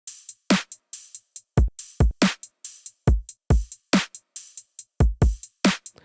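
Punchy electronic drum beat at 140 BPM, built from a kick drum and two layered snares, hitting in a sparse, crisp pattern of sharp transients with silent gaps between hits.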